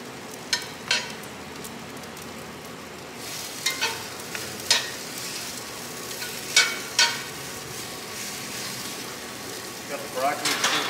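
Broccoli frying on a Wild Fire 4-in-1 grill, a faint continuous sizzle broken by several sharp scraping and clattering stirring sounds, mostly without talking.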